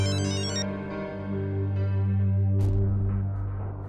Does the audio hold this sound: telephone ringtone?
yes